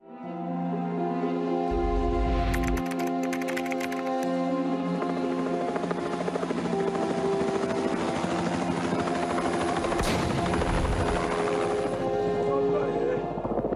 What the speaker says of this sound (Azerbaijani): Kadrda Ağdamdan Şuşaya uçan Mi-8 mülki vertolyot erməni terrorçuları tərəfindən Xankəndi istiqamətindən qumbara atanla vurulur.